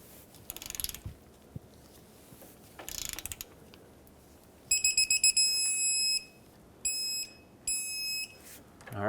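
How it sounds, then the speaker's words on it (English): Torque wrench tightening the rear shock absorber mounting nut on a 2007-2014 Chevrolet Silverado 2500 HD: quick ratcheting clicks in two bursts, then a run of sharp metallic beeps and tones signalling target torque, close and clear. "I will torque this on the nut side."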